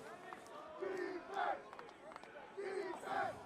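Stadium crowd at a college lacrosse game between Loyola Maryland and Maryland rising in swelling waves of cheering and shouting, with a commentator talking over the noise.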